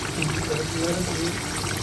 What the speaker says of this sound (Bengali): একটু গরম পানি দিয়ে দিতে